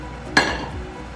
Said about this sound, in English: And wash up these dishes.